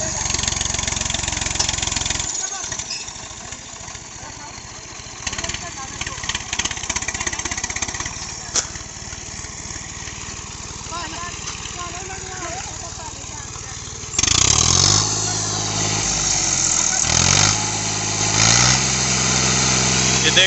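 An Eicher 551 tractor with a starter fault cranks and catches, its diesel engine chugging steadily with a loud restart surge partway through, while people talk nearby.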